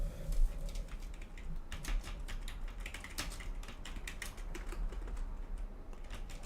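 Steady typing on a computer keyboard at a fantasy football live draft, a continuous close patter of rapid clicking keystrokes with small bursts and brief pauses, no talk.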